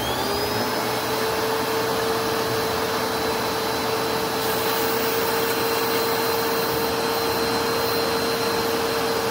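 A Bissell ProHeat 12-amp carpet cleaner runs with its hose suction on, giving a loud, steady motor drone with a whining tone that holds unchanged throughout, with no voices.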